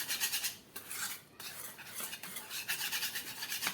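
A spoon stirs malpua batter in a bowl after a spoonful of water is added, producing repeated scraping and clinking strokes in an uneven rhythm, close by with no talking.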